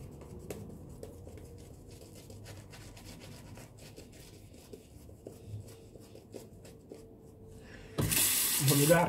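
A bathroom tap suddenly gushes loudly near the end, after a stretch of soft, quiet rubbing from a shaving brush working lather during a wet shave.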